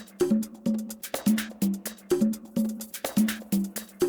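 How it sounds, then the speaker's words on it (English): A deep house loop with crisp, bright shaker hits riding over short tonal synth stabs, repeating in a steady rhythm with no voices. "some shakers."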